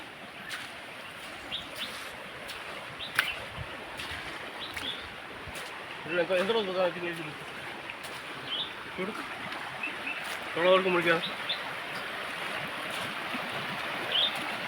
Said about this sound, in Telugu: ఈ నీరు అంతా కొత్తకోట ఏరుకి పారే నీరు పారుతున్నాయి